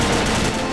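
Rapid gunfire in the video game Combat Arms, a dense continuous burst of automatic shots filling a brief moment, loud and close.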